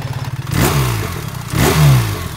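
A BMW R1300GSA motorcycle exhaust revs up twice in quick succession, the engine rising and falling loudly over a throbbing idle, recorded up close at the exhaust.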